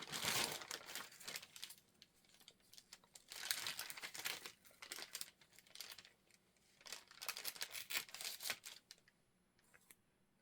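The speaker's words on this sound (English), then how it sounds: "let's tear a little piece of it off" Paper torn off in small pieces for a no-sew journal, several close crinkling, ripping bursts with brief pauses between, in a quiet room.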